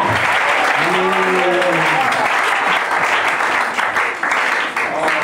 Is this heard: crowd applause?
yes